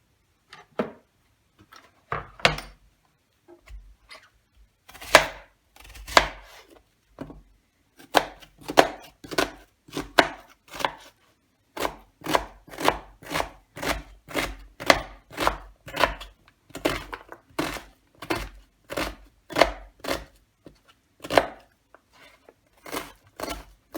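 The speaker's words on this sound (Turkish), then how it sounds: "maydanozlarımızı doğruyoruz" A knife chopping fresh parsley on a board, sharp close knocks that start sparse and irregular, then settle into a fast, steady rhythm of evenly spaced strokes.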